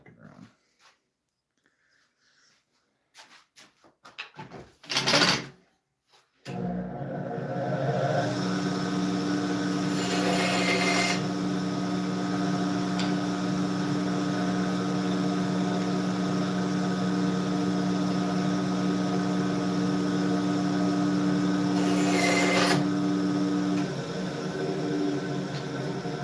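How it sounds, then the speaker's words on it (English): A bandsaw cuts a redwood fence board. A few scattered knocks come first, then a steady, moderately loud machine hum lasts about seventeen seconds, with brief harsher bursts near the start and end of the cut. "I'm gonna use the bandsaw for that"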